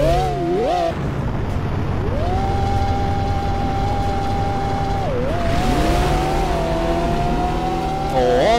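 Loud car engine revving in the Roblox game Drive World, an old Century X car, a steady high engine drone that dips and climbs again as the car accelerates, with a voice talking over it.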